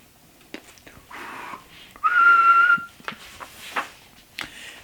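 A person whistles in imitation of a nightingale during a children's story: one sustained, steady whistled note lasting under a second, set among quiet shuffling sounds.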